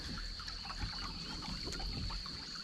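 River water bubbles and trickles over a stone ledge, a faint, steady babble of small gurgles and splashes at close range with a thin constant tone in the background.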